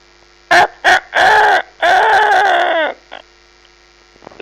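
A human voice mimics a rooster's crow in a few short bursts followed by one long drawn-out call, over a low steady hum.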